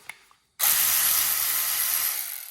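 Cordless ratchet motor spinning after a short click, a steady high-pitched whir with a buzzing mechanical drone, running continuously for about two seconds before easing off.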